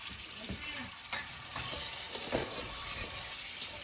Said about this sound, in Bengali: মাছটা দিয়ে দিচ্ছি মশলার মধ্যে